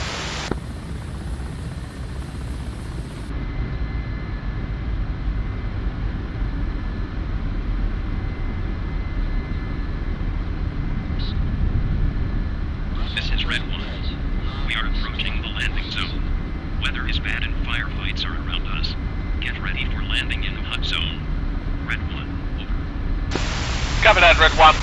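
Aircraft engine drone from inbound bombers in the DCS flight simulator, a steady broadband roar running throughout, with crackly radio chatter layered over it in the middle section.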